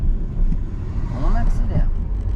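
A car accelerates steadily during a driving lesson, its engine rumbling low and continuous close by, rising briefly as the driver shifts into third gear, with an instructor talking over it.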